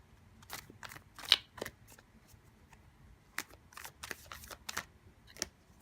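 Tarot cards being shuffled by hand in quick papery bursts of riffling and flicking, close and fairly quiet, irregular clusters separated by brief pauses.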